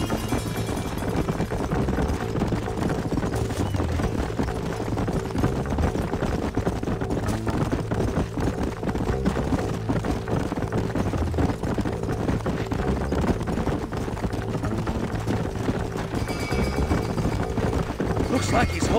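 Horse hooves gallop in the Red Dead Redemption video game, a steady rapid clip-clop running continuously and moderately loud beneath a constant bed of game music and ambience.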